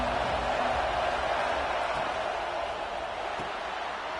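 A stadium crowd at a Texas A&M versus Auburn college football game gives a dense, steady roar that holds level throughout without clear talk.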